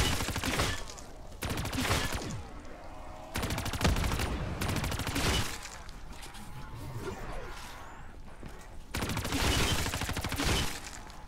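Sustained automatic fire in Black Ops III zombies on the map The Giant blasts in long rapid bursts separated by brief pauses, loud and close, with in-game voice lines heard faintly between volleys.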